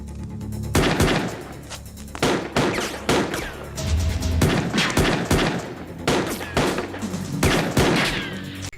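Film shootout between police and a gunman, a rapid series of loud, sharp gunshots in irregular bursts over about nine seconds, some overlapping, with no talk.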